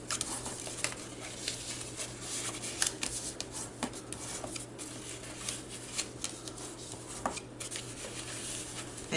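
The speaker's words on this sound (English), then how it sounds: "go ahead and fold and burnish all these score lines" Paper being folded along score lines and burnished flat while making a Christmas table favor: close, dry rustles and sharp crinkling snaps in an irregular rhythm, with a faint steady hum underneath.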